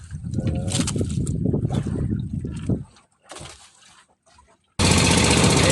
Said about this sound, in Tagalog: Papandar na po tayo guys sa makina natin.